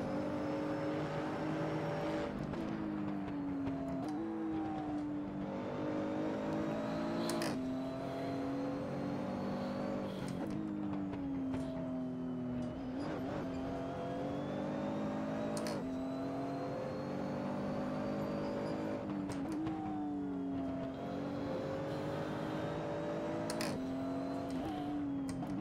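GT2 race car engine in a racing video game, droning at high revs with repeated sharp upshifts and throttle lifts, the pitch climbing and dropping in cycles, loud and close throughout.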